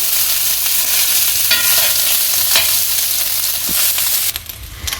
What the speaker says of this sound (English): Just let it fry a little bit here.